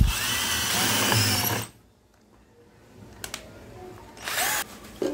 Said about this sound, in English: Now I will drill a hole on the cap of mixing chamber.